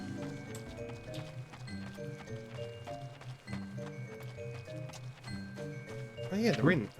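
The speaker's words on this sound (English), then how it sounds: "the noise of your feet in the ground is so good" Rhythmic footsteps crunching on ground in the video game Final Fantasy XIV, steady and close, layered over game music and talk, ending with a brighter scuffing burst.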